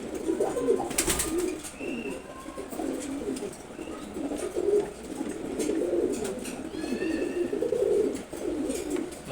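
A silver gola pigeon cooing in a loft, repeated low soft coos close by, with a few faint chirps and brief rustling in the background.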